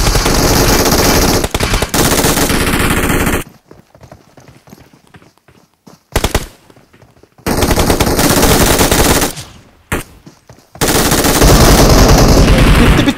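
An MG3 machine gun fires in the video game PUBG in loud, rapid full-auto bursts, with several long strings of shots broken by short gaps and quiet stretches.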